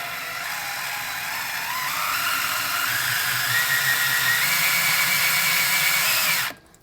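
A 60-degree cutter turns against an engine valve seat, a steady close mechanical whir and grind with a slowly rising tone that holds for several seconds, then stops abruptly.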